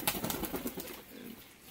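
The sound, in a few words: pigeon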